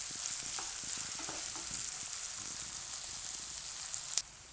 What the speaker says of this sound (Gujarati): ડુંગળીને થોડીક વાર પાકવા દે, હું ફેરવશું આ રીતે એકાદી મિનિટ માટે.